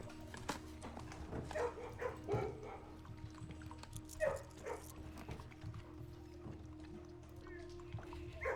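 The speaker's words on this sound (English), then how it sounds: "Gotta pet the dogs." Dogs in a kennel in the Blue Prince video game, with scattered barks, yips and soft whimpers over a low background drone, moderately loud and close.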